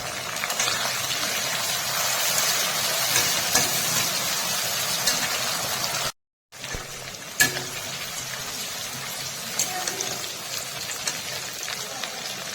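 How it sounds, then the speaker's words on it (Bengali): Chopped onion frying in a pan with nigella seeds, tomatoes and green chillies gives a loud, continuous sizzling hiss. It breaks off briefly midway, then resumes with a single sharp clink. "পেঁয়াজ ভাজা হয়ে গেছে"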